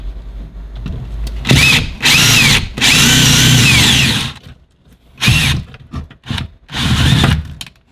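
A power drill whirs in several short bursts of one to two seconds with gaps between, driving screws while a door panel is removed from a Volkswagen Atlas; loud and close, with no talk.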